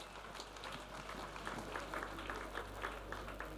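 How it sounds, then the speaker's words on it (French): A church congregation at a praise and thanksgiving festival claps for Jesus, a quiet, distant patter of rhythmic applause that builds slightly and continues steadily under a low hum. "Let us clap for Jesus."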